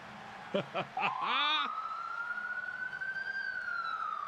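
An ambulance siren wails during a WWE Raw broadcast, starting with short bursts and then settling into a long rising and falling tone over crowd noise.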